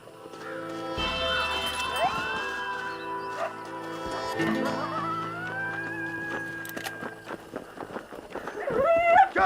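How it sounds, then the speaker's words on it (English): A dog in the Red Dead Redemption video game barks and whimpers in short bursts over a steady game soundscape that includes horse hooves, with the yapping growing louder toward the end. "Goddamn crazy dog!"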